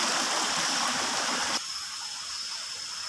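Rainwater stream rushing through a forest, a steady broadband wash of flowing water that continues throughout, slightly quieter in the second half, with no voices.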